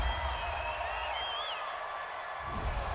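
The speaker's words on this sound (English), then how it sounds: "Well, this crowd does not like that call." A football stadium crowd at an NFL game between the Arizona Cardinals and Green Bay Packers reacts to a roughing-the-passer penalty with a broad, sustained roar of booing and shouting.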